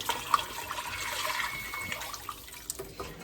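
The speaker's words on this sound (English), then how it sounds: "And then you can pour the rest of this in there." Liquid pours steadily into a booyah stew pot, a continuous splashing, gurgling rush at close range that tapers off toward the end.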